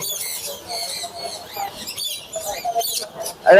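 Busy high chirps and tweets from many lovebirds and other small birds fill the air at a bird market in Mirpur, Bangladesh, mixed with crowd chatter and people talking nearby.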